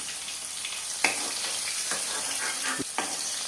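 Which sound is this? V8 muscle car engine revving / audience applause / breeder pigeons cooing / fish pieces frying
fish pieces frying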